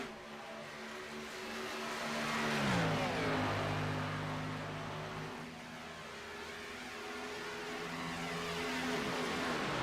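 Race cars roll down pit lane in an oval stock car racing video game at Las Vegas, a steady engine drone swelling and easing as cars pass, with no talk.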